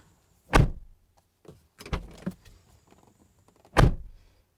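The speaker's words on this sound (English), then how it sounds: "for the signature door slam test" Three heavy door thunks from a 2019 Alfa Romeo Stelvio QV SUV, spaced apart with quieter clicks and latch noises between them, close by in a quiet cabin setting.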